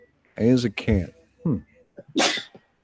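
A single sharp human sneeze bursts out near the end, after a few spoken words.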